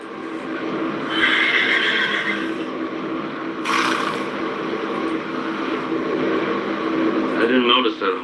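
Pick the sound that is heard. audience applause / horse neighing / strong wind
horse neighing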